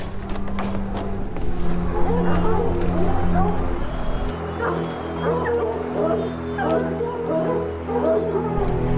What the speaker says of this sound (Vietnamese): Giống chó săn ba màu của Pháp được nhân giống để đi săn theo đàn.